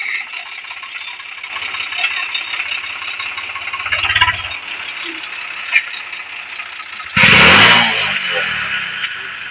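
A motor vehicle engine runs steadily throughout, a continuous mechanical drone with rattling, and a louder burst near the end as it revs or passes close by, in a village setting.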